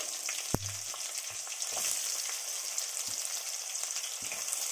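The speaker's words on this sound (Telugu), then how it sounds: "ఇవి కూడా ఫ్రై అవ్వనివ్వాలి, బ్రౌన్ కలర్ వచ్చేలాగా." Onion pieces frying in a pan for mushroom curry, with jeera, bay leaf and cinnamon, a steady close sizzle broken by a few soft stirring knocks, with no talking.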